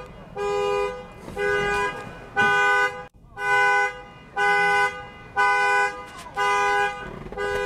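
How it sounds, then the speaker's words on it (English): A parked car's alarm honks in a regular pattern, about seven evenly spaced horn blasts, each lasting roughly half a second, loud and close. "setting off the alarm"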